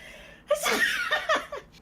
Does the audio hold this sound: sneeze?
yes